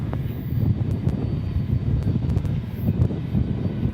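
An American Airlines jet taking off from runway 18 Left at DFW Airport, a steady broad engine roar with wind buffeting, continuous and fairly loud throughout without voices.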